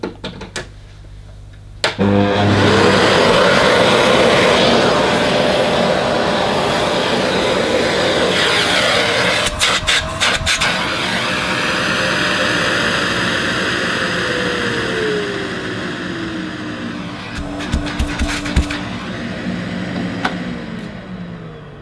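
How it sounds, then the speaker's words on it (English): A Karcher VC 6 vacuum cleaner motor spins up abruptly and then runs with a loud, steady whirring roar. Its pitch drifts downward near the end, with a few brief knocks and no speech. "Well, it seems to work, and it's quite a nice sounding motor."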